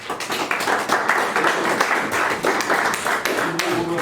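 A poetry slam audience claps steadily for about four seconds, a fairly close, even patter of hands with a few brief sounds near the end.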